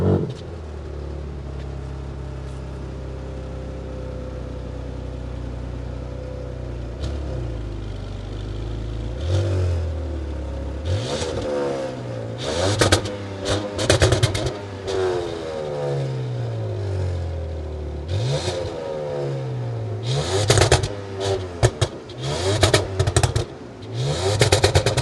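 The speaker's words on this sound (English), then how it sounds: "this is the 6-pack, which means we have an active exhaust system" A 2026 Dodge Charger Sixpack with active exhaust, running a 550 hp engine, starts from a steady idle and then gives a series of sharp revs that rise and fall several times, loud and close.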